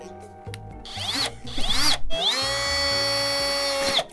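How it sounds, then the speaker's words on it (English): A power drill bores into a giant gummy, its motor whining in short bursts that rise and fall before one long sustained run, loud and close. "We have to bring out the power tools."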